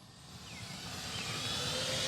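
FMS P-51D Mustang Red Tail V8 RC model plane, 1450mm wingspan, flying at full throttle outdoors with a steady rising engine whine that grows louder as it nears, with wind noise and no talking.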